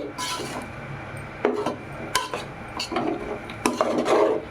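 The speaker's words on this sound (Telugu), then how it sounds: "బాగా కలుపుకోవాలి. కింద నుంచి బాగా కలవాలి ముందర." A spoon stirs salted mint rice in a pot, producing irregular scraping and clinking strokes close by, each a short rasp against the metal.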